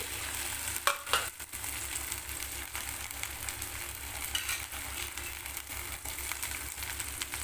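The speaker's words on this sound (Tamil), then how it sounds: "இப்போ வந்து எண்ணெய் நல்லா காஞ்சிருச்சு இதில் பொறிச்சிக்கலாம்" Cut okra fries in hot oil, crackling in a dense, continuous sizzle with a couple of sharper clatters near the start and no voices.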